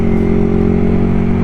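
Motorcycle exhaust while riding in the morning in Pekanbaru, a dense, steady mid-pitched drone with a constant tone, loud and close, with no voices over it.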